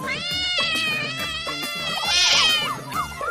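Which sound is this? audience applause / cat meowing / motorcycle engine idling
cat meowing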